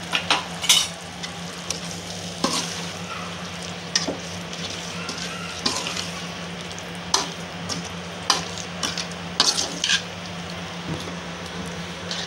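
Tamarind water curry for a karavaadu kaara kolambu, Tamil Nadu style, stirred in a pan with a spoon, giving repeated scraping clicks over a steady low sizzle and hum, no talking.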